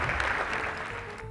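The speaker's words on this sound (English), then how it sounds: "Give yourself a round of applause." Audience applause at a Father of the Year awards event, a dense, steady clapping from a crowd lasting a little over a second.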